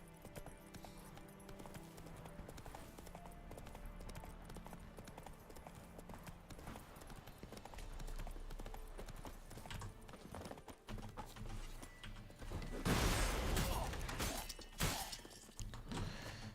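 Roach, Geralt's horse in The Witcher 3, gallops with steady rhythmic hoofbeats over game ambience, and a loud crashing burst comes near the end.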